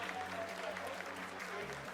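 Staff in mission control applaud during the Chandrayaan 3 lunar landing, a faint, steady patter of many hands clapping, distant and low under a room hum.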